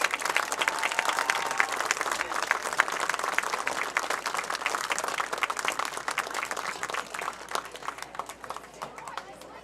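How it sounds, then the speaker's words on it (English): A stadium crowd at a varsity football game applauds Hall of Fame inductees, a dense, steady wash of clapping that holds loud for nearly ten seconds before easing slightly. "Titan fans, please join me in one more round of applause for your 2025 Hall of Fame inductees."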